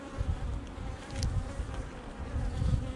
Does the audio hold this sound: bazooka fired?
no